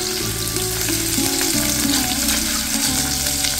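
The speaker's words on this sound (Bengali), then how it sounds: "মাছগুলোকে অল্প ভেজে আমি তুলে নেব।" Prawns fry in oil in a pan for a prawn malaikari, producing a loud, busy sizzle that holds steady, with a low tonal hum running underneath.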